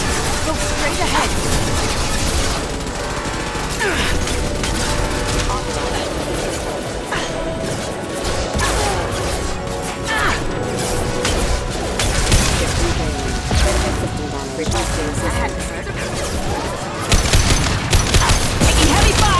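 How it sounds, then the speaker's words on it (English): Heavy gunfire in the video game Mass Effect 2: dense, continuous volleys of shots, crashes and impacts fill the scene without letup, with voices speaking over the chaos. "Taking heavy fire."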